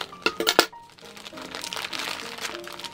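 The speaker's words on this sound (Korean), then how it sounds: "이렇게 이대로 밀봉돼 있고 빨리 뜯어볼게요" Sealed plastic packaging of a small plush toy being carefully torn and crinkled open by hand, a few sharp crackly rips up close followed by softer continuous rustling, with faint background sound throughout.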